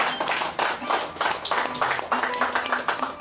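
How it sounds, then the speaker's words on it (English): A small audience claps in loose, uneven bursts at moderate volume, with faint voices mixed in. "let's give ourselves a round of applause"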